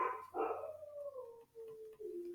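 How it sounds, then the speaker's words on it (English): Dogs howl upstairs in a rented home, a faint, drawn-out howl that slides downward through the floor, with a short yip and a second lower howl at the end. "Man, those dogs."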